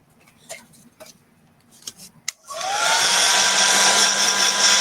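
A few soft clicks and taps come first, then a dryer switches on to blast-dry a plastic bauble craft piece. It gives a loud, steady, close whooshing roar that holds to the end.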